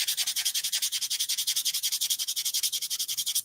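Sandpaper of 220 grit rubs briskly along balsa wood edges in fast, even back-and-forth strokes, about ten per second, with a close, dry, hissing scrape that stops abruptly at the end.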